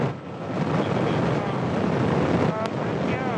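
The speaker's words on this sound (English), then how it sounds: "We've got main engine start." Soyuz rocket engines starting up on the launch pad, a broad, steady roaring rumble with wind-like noise, fairly loud and continuous throughout, with a brief faint tone near the end.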